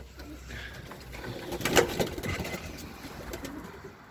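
Young racing pigeons cooing softly nearby in a loft, a low throaty burble rising in the middle, with faint background rustle.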